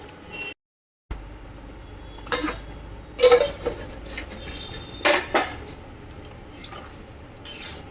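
Vegetables are stirred in a cooking pot, with several sharp metal clanks and scrapes of a spoon against the pot in irregular bursts over low background noise and no talking.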